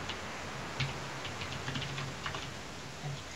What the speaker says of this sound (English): I'm just spam clicking and moving my mouse around a lot.